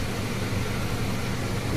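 A vacuum sealing machine packaging hotdogs gives off a steady, close mechanical whir with a broad hissing hum that holds even throughout.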